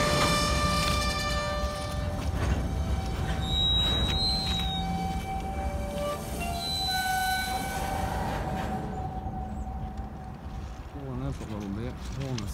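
A CSX mixed freight train switching freight cars at Cumberland Avenue in Knoxville, Tennessee, rumbles and clanks steadily with long horn blasts and squealing tones. People talk nearby.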